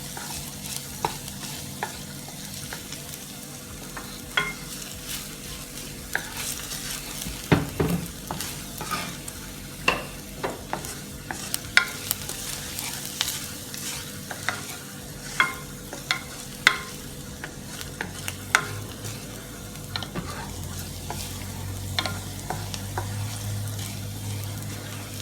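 Garlic frying gently in a pan on low heat, a soft continuous sizzle under scattered scraping and tapping of a stirring utensil, close and fairly quiet, with a low hum near the end.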